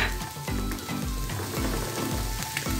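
Chicken pieces fry in a small pan for a Brazilian chicken salad with vegetables, giving a steady, loud, continuous sizzle with crackling pops throughout and no talking.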